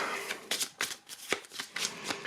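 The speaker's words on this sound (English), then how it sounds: "You shuffle them up" Playing cards being riffle-shuffled up close, several quick crisp bursts of flapping cards in succession.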